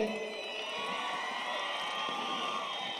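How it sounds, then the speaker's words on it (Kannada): A large crowd cheers and whoops continuously at Hampi Utsava, a festival stage event, a dense sustained roar of shouting voices with possible clapping mixed in. "ಇವರಿಬ್ಬರಿಗೂ ಸಿಕ್ಕಾಪಡೆ ಜೋರಾಗಿ ಬಲಿ ಚಪ್ಪಾಳೆ"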